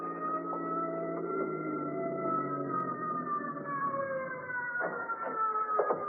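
An approaching ambulance siren wails, sweeping up and down continuously, moderately distant, its pitch slowly shifting as it approaches.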